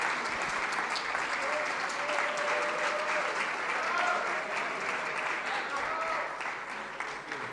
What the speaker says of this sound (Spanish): Un fuerte aplauso para Luis Salinas.